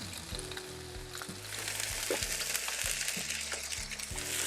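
Onions frying on a hot griddle, a bright, dense sizzle that holds steady and builds slightly over a few seconds, close up and uninterrupted, with a low steady hum beneath.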